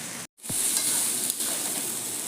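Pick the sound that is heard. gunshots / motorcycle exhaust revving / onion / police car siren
onion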